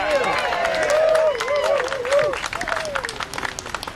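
An audience at a climate and carbon-cutting rally applauds after a speech, with the clapping dense at first and thinning out, and voices and cheers mixed in.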